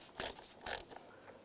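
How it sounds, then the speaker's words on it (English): A ratchet with an 11mm socket loosens a nut on a 1999-2005 Volkswagen Jetta power distribution fuse block, giving two brief, close clicking bursts. "We're going to use an 11mm socket."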